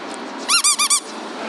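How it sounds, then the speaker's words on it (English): A toy squeaker sounds four quick high squeaks in a row, close and loud, over a faint hiss. "these are squeaker replacements"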